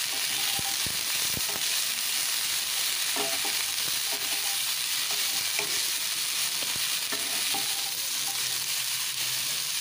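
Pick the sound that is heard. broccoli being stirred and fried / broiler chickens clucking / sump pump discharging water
broccoli being stirred and fried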